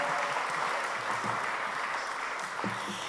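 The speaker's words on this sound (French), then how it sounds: "oui, on peut applaudir" Congregation applauding during a church Easter celebration, a steady dense wash of clapping filling the whole stretch at moderate level, with no voice standing out.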